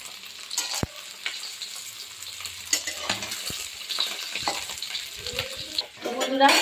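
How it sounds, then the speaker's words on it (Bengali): Egg and spinach fritters sizzle steadily in a hot pan, with occasional scrapes and clinks of a spatula as they are turned, close and moderately loud, under brief bits of talk. "উল্টো পাল্টে ভেজে নেব"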